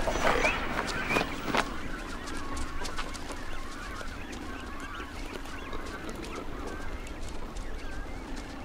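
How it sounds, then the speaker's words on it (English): Seabirds at a desert sea colony, cormorants and reef herons waiting near chicks being fed, give harsh honking calls. They are loudest in the first seconds, then a dense, steady, windy hiss of colony noise carries on without speech. "Hungry cormorants and reef herons wait until chicks are being fed,"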